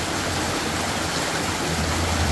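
A village river in Jamaica rushes in a steady, loud, broadband wash of running water, continuous and close, with no voices.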